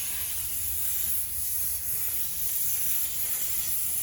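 Compressed air hisses steadily through an air die grinder in a 1963 Chevy C10 restoration shop, a constant, even rush at moderate level with no voices.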